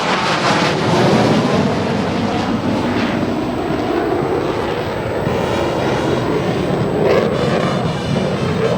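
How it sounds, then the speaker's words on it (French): Mirage F1 fighter-bombers roar overhead during a 15 August civil parade, a loud, continuous jet rumble filling the whole stretch with no voices. "ainsi que des chasseurs bombardiers Mirage. F1"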